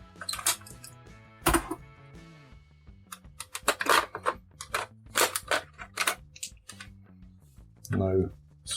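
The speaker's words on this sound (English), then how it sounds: "we'll just remove the batteries" AA batteries are removed from a Tandy Sky Duel toy, with close plastic clicks, clacks and rattles in irregular bursts, one sharper snap and a short rattle near the end.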